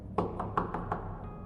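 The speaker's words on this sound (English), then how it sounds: "a knock came at my door." A run of about five knocks on a door, sharp, evenly spaced raps close by with no voices around them.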